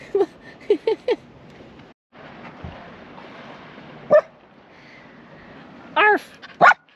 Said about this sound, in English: Stop barking and swim with them